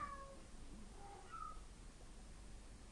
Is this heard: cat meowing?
yes